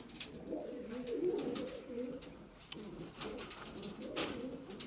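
A large female pigeon, white with a dark beak, coos softly at close range in repeated low rolling phrases over quiet background noise.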